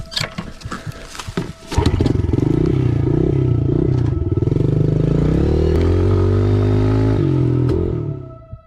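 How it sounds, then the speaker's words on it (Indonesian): Motorcycle engine starting with clattering and scraping noises, then a steady loud droning rumble as it revs and pulls away, no voices. "pria itu pun bergegas menghidupkan motornya dan pergi dari tempat"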